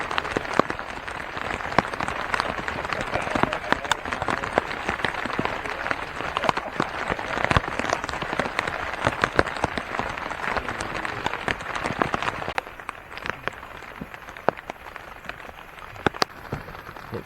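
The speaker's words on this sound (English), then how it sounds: "It's raining outside." Rain patters on a camping tent beside a river, a dense crackling patter of close drops with sharp individual hits, easing slightly toward the end.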